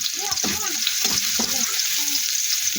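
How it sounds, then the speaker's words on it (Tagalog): Garlic sautéing in a pan for adobong kangkong (water spinach) gives a steady, loud hiss with a few soft stirring scrapes throughout. "Saute lamang natin."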